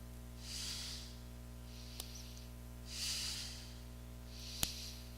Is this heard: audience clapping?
no